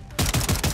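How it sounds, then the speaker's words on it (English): Gunfire in the video game Warzone from a shotgun converted into an assault rifle: after a short quiet lead-in, a loud, fast string of about four to five heavy shots fires in steady rhythm. "Shoot him through the walls."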